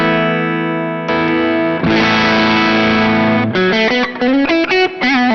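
Electric guitar through a JHS Sweet Tea V2 overdrive pedal, blend control all the way down, sustained crunchy chords ringing out, then a quick run of distorted single notes, loud and close.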